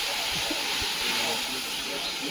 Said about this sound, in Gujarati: એકદમ મસ્ત મજાનો આપણે વઘાર